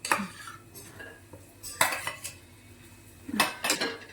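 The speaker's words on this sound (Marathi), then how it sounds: "आता भाजून सोलून घेतलेलं वांग तळलेलं त्याच्यात टाकणार." Roasted, peeled and fried eggplant going into a pan for bharit, heard as a few sharp clanks of a spoon against metal cookware with soft scraping between, close and without talk.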